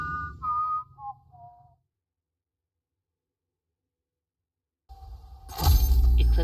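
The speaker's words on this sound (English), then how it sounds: "Engaging whistling subroutine." A robot in the video game Everreach: Project Eden whistles a short, descending run of tones, then silence, followed by a sudden loud crash-like burst at the end.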